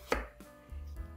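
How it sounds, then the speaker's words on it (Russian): A knife chops once, sharp and close, through eggplant on a cutting board, followed by a faint low rumble. "Первое, что нам нужно – это нарезать слайдами синенькие"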